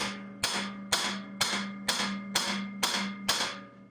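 Eight evenly spaced metallic hammer taps on a 600 C-TEC2 snowmobile ring out one after another at a steady rhythm, each sharp strike decaying quickly over a low steady hum.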